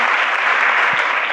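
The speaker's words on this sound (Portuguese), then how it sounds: "Palmas aí pro pessoal da mídia, gente." A church audience applauds for the media team, producing a dense, even burst of many hands clapping at once, loud and close, briefly and without a break.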